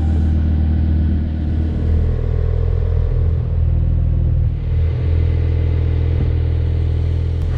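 A sports car engine drones loudly and steadily on a race track, close to the microphone. It gives a constant deep rumble with only slight shifts in pitch and no pauses.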